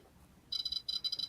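REM pod ghost-hunting alarm sounding close by in two bursts of rapid, shrill electronic beeping, separated by a brief pause, over a quiet room.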